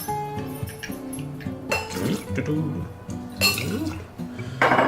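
Liquor poured for an extra-strong Hurricane cocktail, with glass clinks and a trickling pour amid bottle handling, heard under a speaking voice.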